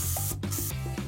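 Short hissing bursts of a spray paint can sprayed through a stencil onto a wall, several quick puffs with brief gaps between them, close and fairly loud over a faint background tone.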